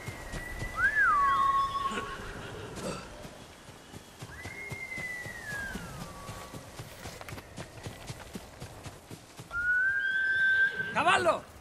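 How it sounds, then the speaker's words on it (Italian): A horse in the game Ghost of Tsushima whinnies several times, with clip-clopping hooves and outdoor ambience underneath and voices talking at moments. "Cavallo!"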